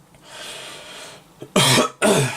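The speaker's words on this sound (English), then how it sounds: "I've got a bit of a cough as per usual." Two loud, harsh coughs burst out close to the microphone after a quiet stretch of faint room noise, the second following shortly after the first.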